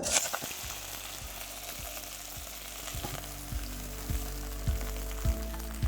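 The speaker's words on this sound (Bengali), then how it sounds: "তেলটা ভালো করে গরম হয়ে গেলে আমি এখানে দিয়ে দেবো ঢ্যাঁড়সটা" Okra sizzles and fries in hot mustard oil in a pan, a steady crackling hiss with a few soft stirring knocks, close and continuous with no talking.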